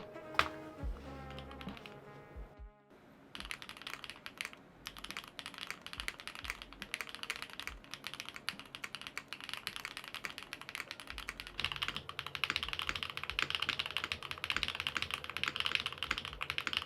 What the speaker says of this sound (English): Let's mount these switches on the ND75 and the Wuche Studio keycap set and hear how it sounds